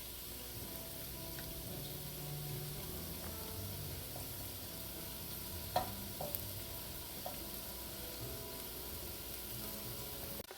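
Vegetables sauté in a pan with a faint, continuous sizzle, while a utensil stirs them with soft, scattered scrapes and taps throughout.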